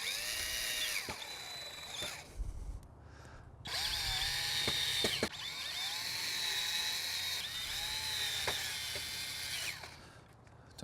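A power drill drives screws through the metal flap into pre-drilled holes while reinstalling a Bestop Trektop on a four-door Jeep JK Unlimited, in several loud whirring bursts with rising and falling pitch and short pauses between them.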